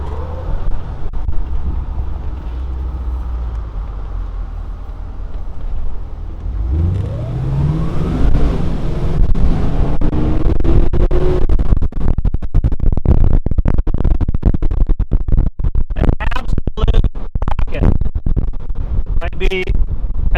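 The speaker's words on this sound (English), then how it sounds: "There's going to be some wind noise, but we're just going to do some accelerations here just so you kind of know what you're dealing with." A 1971 Mercedes-Benz 280SE 3.5 V8 cabriolet accelerates with the top down, its engine note climbing through the gears under steady, loud wind buffeting and road rumble, with sharp gusts toward the end.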